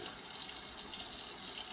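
Tap water running steadily into a sink while water is being changed, a constant hissing splash heard alone at moderate volume.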